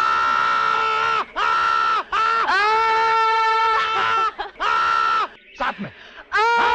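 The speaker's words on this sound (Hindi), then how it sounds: "ऐसे चिल्लाइए, आइए मैं दिखाता हूँ आपको।" A man in a Hindi film scene demonstrates a scream, shouting very loudly in several long sustained bursts separated by brief gaps, ending in rougher strained cries.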